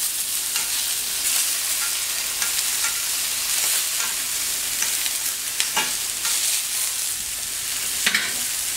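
Chicken sizzles on a plancha grill, a continuous bright frying hiss with scattered sharp crackles and pops, close and loud, with no talking.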